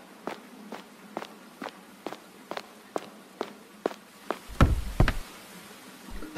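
Characters in the horror game The Mimic trying to open doors, a regular series of sharp knocks or thuds about every half second, followed by a louder rumbling burst and then quiet.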